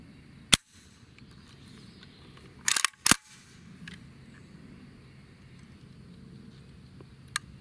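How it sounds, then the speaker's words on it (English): Faint, brief clicks from the trigger reset of a Century VZ2008 pistol, a few sharp isolated snaps spread over a quiet room background with no talking. "And then there's the reset, very quiet, and you can hardly feel it."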